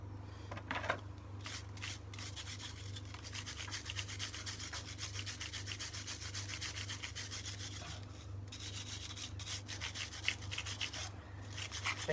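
A brake caliper piston on a Vauxhall Astra Mk4 is wiped clean, a continuous close rubbing and scrubbing over a low steady hum, with no talk.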